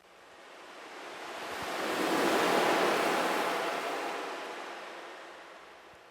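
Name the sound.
ocean wave and river sound samples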